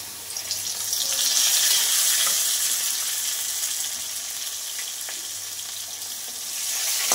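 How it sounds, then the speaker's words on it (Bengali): Potatoes and tomatoes frying in a pan for a potato and rohu fish curry, a loud continuous sizzle that swells and eases, with occasional stirring scrapes and spatters close by and no talking. "আমি এবার দেখো টমেটোগুলো দিয়ে দেবো"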